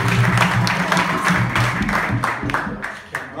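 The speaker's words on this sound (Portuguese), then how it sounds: "uma salva de palmas" Applause at a capoeira cultural university event in Santa Maria: a crowd claps steadily and densely, fairly loud and close, with a low murmur of voices underneath, fading slightly at the end.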